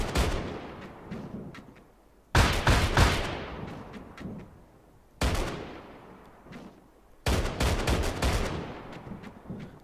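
Heavy 25mm cannon on a gunner vehicle in a video game fires four separate loud bursts of rapid shots, each a sharp onset that rings out and trails off, with quieter rumble and scattered single reports between bursts.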